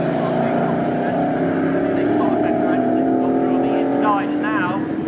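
Vintage touring cars, pre-1983 Group 1 and pre-1966 classes, race at Snetterton circuit, their engines droning loudly and continuously beneath a commentator's running talk.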